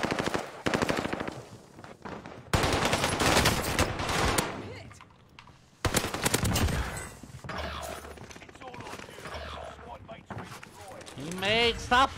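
Automatic gunfire in a video game, rapid bursts repeating through the scene with a few pauses, loud and close, while players talk over the shooting.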